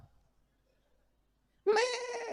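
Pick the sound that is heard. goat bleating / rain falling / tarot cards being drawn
goat bleating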